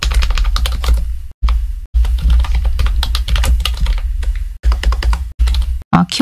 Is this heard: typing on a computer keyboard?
yes